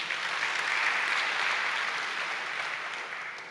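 A church congregation applauds during an Indonesian sermon, dense sustained clapping filling the room and slowly tapering off toward the end.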